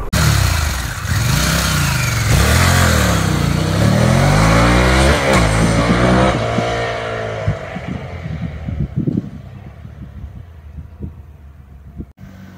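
A Harley-Davidson Pan America 1250 motorcycle engine pulls hard and loud for about seven seconds, its pitch sweeping up and down through the gears, then eases off into a lighter, uneven engine and road sound.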